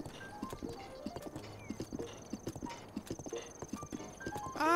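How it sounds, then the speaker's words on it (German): Horse hooves clip-clop at a steady gallop rhythm while riding in the video game Zelda: Breath of the Wild, close and clear, with a short whinny near the end and no talking. "Aber mit Pferd reiten ist angenehm."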